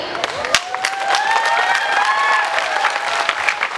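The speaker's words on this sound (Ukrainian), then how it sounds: "дозвольте на цю сцену під ваші бурхливі оплески, які вже лунають" Audience applauds on stage at the Кришталеві грона 2015 festival, a steady wash of clapping with some cheering and a faint tonal line running through it.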